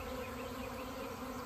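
Honeybees from a swarm flying around while being hived: a thick, constant hum of many wings, even and fairly faint, heard alone without voices.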